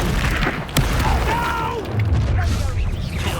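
Depulso spell blast in the video game Hogwarts Legacy, a sharp booming burst during a combat exchange with other spell effects and a voice shouting over the action.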